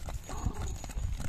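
Hooves of a spirited, strong Karabair horse bred for ulak clip-clop in a quick, steady rhythm of close, distinct beats against a noisy outdoor background, with no voices.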